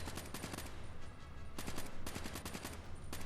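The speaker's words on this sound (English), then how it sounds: "That didn't work, so let's just shoot him instead." Bursts of automatic gunfire from Call of Duty Black Ops 3, rapid loud volleys in short clusters separated by brief pauses over a constant game background rumble, with no talking.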